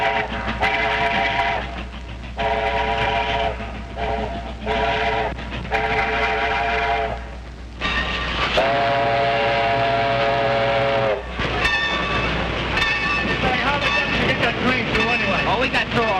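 Steam train whistle blowing in repeated long blasts as a locomotive nears a rail yard, loud tonal shrieks broken by short pauses over a rumbling chugging background, with voices talking and shouting between and over the blasts.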